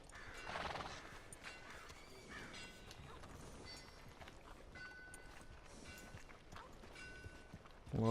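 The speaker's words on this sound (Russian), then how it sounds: "Что-то какая-то розовая лошадь, это что?" In Red Dead Redemption 2, a pink horse gives a whinny near the start, followed by steady hoof clip-clop and ambient game sounds. Everything stays fairly quiet until a louder thump at the very end.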